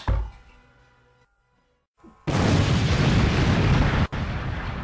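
Cartoon explosion of an eggplant: a sudden loud, sustained burst of noisy rumble after a brief quiet gap, cutting off sharply near the end before a softer continuation.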